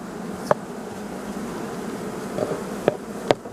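Honey bees buzz softly and steadily at a hive in the background, with a few brief sharp clicks or taps scattered through and no talking.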